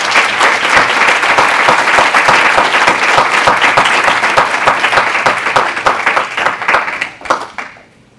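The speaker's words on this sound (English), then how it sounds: "Can we give the panel one more round of applause?" A loud round of applause from a conference audience for a panel on outsourced work: close, dense clapping that carries steadily for about seven seconds before quickly dying away.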